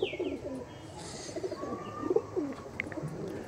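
Soft, low cooing from an Andhra red-neck pigeon, a male bird with black beak and claws, comes in short repeated phrases at moderate distance over a busy background hum, with a few higher chirps scattered through.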